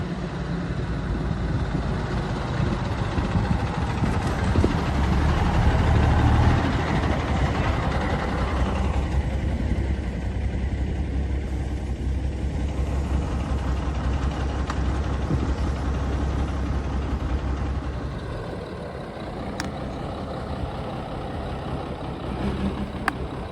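A 1968 White cab-over truck, left sitting for over 25 years, idles and runs with a steady deep low rumble throughout, loud and close, with a brief change in engine note partway through.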